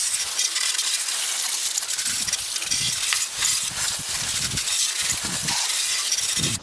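A garden hose sprays water steadily into a car's engine bay to rinse off degreaser, a continuous hissing gush up close with splashing that shifts in strength as the stream moves around.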